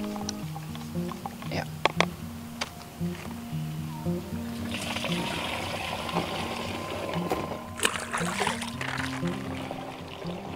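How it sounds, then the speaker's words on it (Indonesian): Fungicide concentrate is stirred into water in a container, making sloshing, trickling swirls with a few sharp knocks, close by, while someone talks over it. "Kita aduk dulu, bro, sampai tercampur sempurna dengan air."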